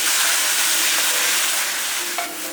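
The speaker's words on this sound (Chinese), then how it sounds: "再把刚刚调好的汁水倒进去" Prepared sauce poured into a hot wok of sizzling napa cabbage, mushrooms, pork belly and garlic gives a loud, steady close hiss of steam and frying, with a brief clink near the end.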